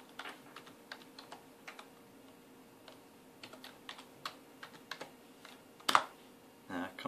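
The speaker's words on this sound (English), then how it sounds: "Let's put the administrator password and type in the password" A computer keyboard being typed on to enter a BIOS administrator password: sparse, irregular soft key clicks at close range, with a louder clack near the end, quiet throughout.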